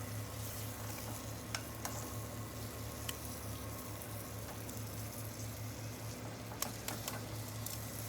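Beef short ribs sear in a pan before braising, making a steady, faint sizzle with a low constant hum beneath and a few small ticks and pops.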